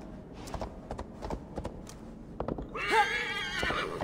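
A horse in Assassin's Creed Valhalla, a video game, with a few soft hoof thuds giving way to a loud, close whinny with a shaky, descending tone.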